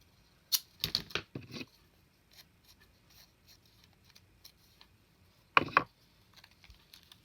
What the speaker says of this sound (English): I used my decal scissors just to kind of give the illusion